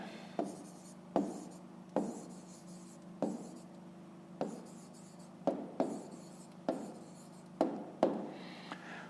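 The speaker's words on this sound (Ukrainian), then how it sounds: "Записуємо відповідь, пишемо відповідь" A pen writes an answer on paper in a quiet room, short scratchy strokes repeating in a steady rhythm of about a dozen marks, close and clear with nothing else heard.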